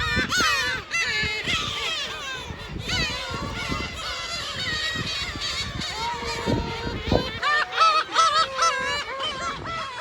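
A noisy flock of gulls calls and squawks close by at a nesting colony on the coast at Kabushima, Hachinohe, Japan, overlapping harsh cries filling the air in a busy, chaotic chorus.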